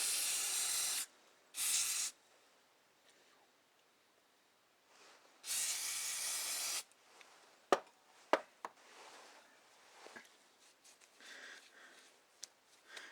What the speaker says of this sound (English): I'm pushing down on it and spraying in. Just spray the fuel through.